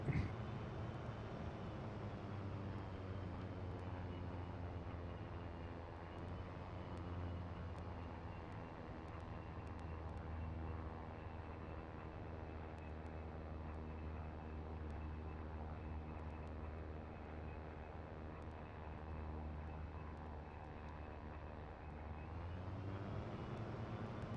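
A military aircraft in a British Armed Forces gaming server sim, its engine droning steadily at low volume for a long stretch as it rolls down the runway, with no talk over it.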